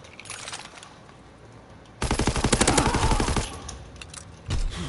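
Gunfire in the Call of Duty WWII video game: a loud, rapid machine-gun burst of about a second and a half breaks in after quiet, followed by a short, sharp second burst near the end.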